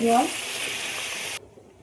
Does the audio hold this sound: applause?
no